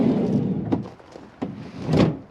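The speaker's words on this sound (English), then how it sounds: "you've got your sliding cargo door" A Volkswagen van's sliding cargo door rolls along its track and thuds shut nearby, with a couple of sharp clunks from the latch.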